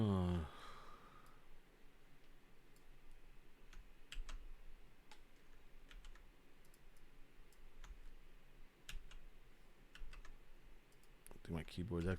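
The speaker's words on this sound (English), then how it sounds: "I think my keyboard's acting a little funny." Sparse computer keyboard typing with scattered individual key clicks and short bursts, faint and close, over a low room hum, with a sigh near the start and brief speech at the end.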